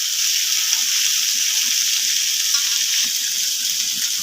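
Vegetables for shukto frying in oil with salt and turmeric, a loud, even, close sizzle that hisses steadily with soft stirring taps underneath.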